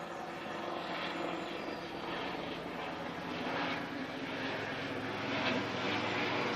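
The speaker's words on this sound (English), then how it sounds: "I think that's a rescue helicopter" A rescue helicopter passes overhead above an allotment garden, a steady, fairly loud rotor and engine drone that fills the whole stretch and swells slightly toward the end.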